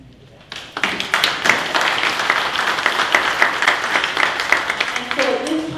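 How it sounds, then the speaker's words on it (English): Applause at a Long Beach, NY city council meeting: a quiet room breaks into sustained, loud clapping from many people in the chamber, steady to the end, with a voice faintly underneath at the close. "that's worthy of applause"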